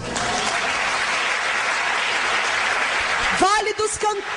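A congregation at a Portuguese-language church testimony service applauds in a dense, even burst for about three seconds before a speaker's voice cuts in over the fading clapping.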